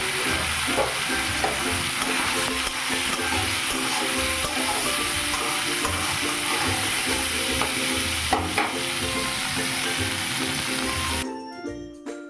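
Soybean chunks fry in hot oil in a kadai, giving a loud, steady, close sizzle with stirring scrapes throughout that fades out abruptly near the end.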